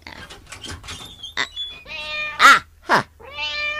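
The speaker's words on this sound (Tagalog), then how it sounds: "Wen, pusa, agninyaw." A pet cat meows loudly several times in close succession, the drawn-out cries rising and falling, with a few sharper squeals near the middle, heard close by in a quiet indoor space with no talking.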